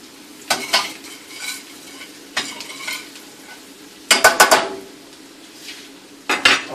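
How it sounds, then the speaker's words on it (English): A spoon scrapes and clinks against a pan as snapper in scampi sauce is stirred, with several sharp metallic knocks in uneven clusters over a soft sizzle. "let me get a spoon so I can move that around."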